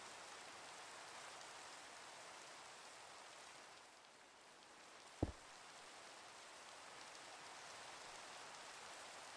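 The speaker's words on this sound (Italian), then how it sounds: "Pioggia o in temporale? Perché solo pioggia finché non sento fulmini." Steady rain hisses across the whole stretch in a Minecraft world, a broad even wash with one sharp click partway through and no voices.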